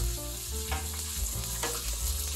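Rice sizzles and crackles steadily as it fries in butter and oil for risotto, with a few scraping stirs and some clatter. The sound stays close and continuous, and nobody speaks.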